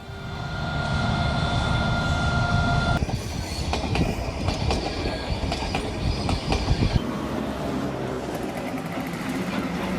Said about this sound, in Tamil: உதகையில் மலை ரயில் சிறப்பு சேவை